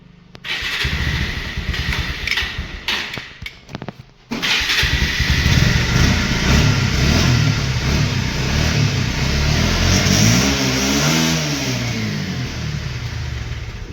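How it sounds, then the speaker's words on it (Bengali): A second-hand motorcycle at a bike showroom catches with a few choppy bursts, then runs loud and close in a sustained rev, the engine note rising and wavering near the end. "গাড়িটা সাউন্ড টাউন্ড ভিউয়ারতে শুনিয়ে দিই।"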